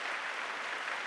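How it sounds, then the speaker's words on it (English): An audience at a Planned Parenthood talk claps, a brief steady burst of many hands heard close and fairly quiet. "Yeah, you can clap for that."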